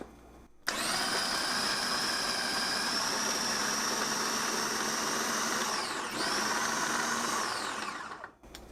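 A Philips Multichopper whirs steadily as it chops two medium tomatoes, a loud, even motor whine that starts abruptly, runs for about eight seconds with a brief dip near the end, then cuts off.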